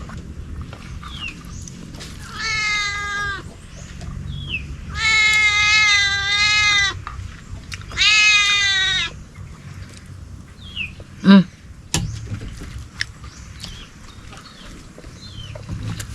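A hungry cat meows repeatedly for food, three drawn-out, clear, close meows spaced a few seconds apart, followed by a short sharp sound and quieter background, with light outdoor ambience throughout.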